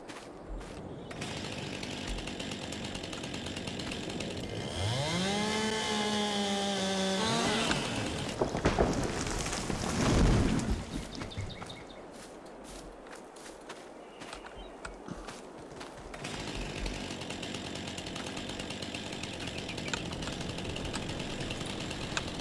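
A chainsaw in Farming Simulator 22 cuts trees, revving up with a rising whine that turns into a buzzing cut. Lighter engine idling and clattering footsteps follow over a steady game background.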